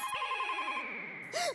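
A telephone rings with a steady electronic warble inside a home, loud and continuous, while a woman briefly calls out near the end.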